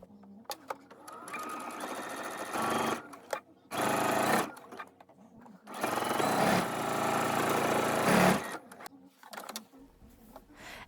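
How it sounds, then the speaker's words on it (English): A sewing machine stitches fabric straps shut in several rapid whirring bursts separated by short pauses, loud and close, with a voice speaking between runs. "to sew the straps shut so that it covers those raw edges"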